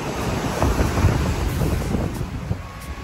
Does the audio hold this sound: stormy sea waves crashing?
yes